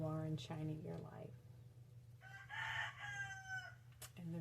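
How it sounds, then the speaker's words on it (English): A rooster crows once at mid distance, a drawn-out harmonic call rising and then falling, while someone talks over a steady low hum before and after it. "And the roosters agree."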